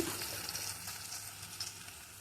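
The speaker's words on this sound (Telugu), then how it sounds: "ఇక్కడ చేప అయితే ఫ్రై అవుతుంది" Steady, close-up sizzling of fish frying in hot oil, a continuous crackling hiss with no talking.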